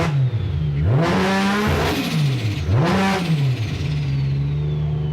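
A Nissan Skyline's RB straight-six engine revs hard in repeated rising and falling sweeps, loud and close, with a throaty drone between pulls.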